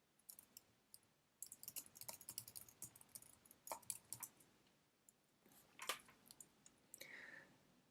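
Quiet, close computer keyboard typing as a password is entered, with irregular bursts of key clicks and short pauses between them, and no speech.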